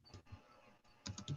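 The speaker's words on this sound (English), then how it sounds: "I think he's typing in the chat." Someone types on a computer keyboard during an online video call, a few faint, quick key clicks in short bursts.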